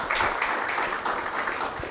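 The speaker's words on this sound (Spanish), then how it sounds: "Podemos dar un aplauso por su abundancia y generosidad." A church congregation applauds at a Spanish-language service, a dense wash of many hands clapping together at close range, steady for the full two seconds with no voices over it.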